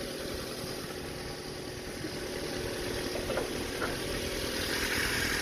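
A 1.5 liter dual point fuel injected car engine idling with the hood open, a steady low hum and faint rattle at close range, holding constant with no speech.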